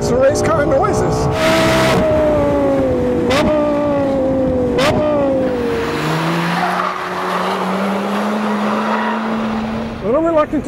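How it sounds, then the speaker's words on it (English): A Ferrari race car engine revs hard through repeated upshifts with rising and falling pitch, then settles into a sustained drone as the car corners, close and loud throughout. "Sure makes the race car noises."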